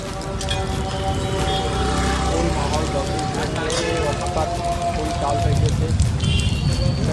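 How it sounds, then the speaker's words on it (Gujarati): Heavy rain pours down in Bharuch, India, a dense, steady rush of hiss that fills the whole scene and swells slightly louder toward the end, with voices and other faint background sounds mixed in. "ભરૂચમાં ફૂલ વરસાદ ચાલુ થઈ ગયો છે"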